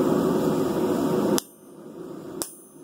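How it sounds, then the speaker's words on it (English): A hammer strikes a hot blade on an anvil during forging, two sharp metallic clanks, the first cutting off a loud roaring background, the second ringing out against a quieter hum. "Nice little anvil smack."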